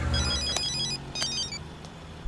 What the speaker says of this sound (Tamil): சார் கமிஷனர் ஃபோன் பண்றாரு.